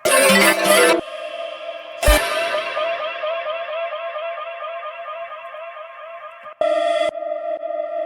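An effect pad sampled from an a cappella vocal in a remix rings out as a bright, sustained, echoing tone with sharp bursts at the start and near the end, the long middle tail slowly fading.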